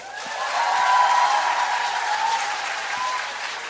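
A studio audience claps in a vote for a Korean lawmaker on a talk show, a brief burst of applause that builds quickly, holds steady and tapers slightly, with a faint tone underneath.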